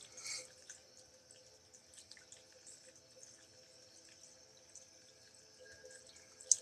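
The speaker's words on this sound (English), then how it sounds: "the other thing you hear is I have a little water fountain on my desk." A small desktop water fountain trickles steadily, a soft continuous flow with faint drips, quiet and close with no voices.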